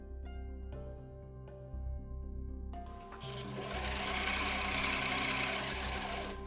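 A sewing machine stitches a cloth face mask with a rapid mechanical chatter that starts as slower, spaced runs and then speeds into a steady, faster whir.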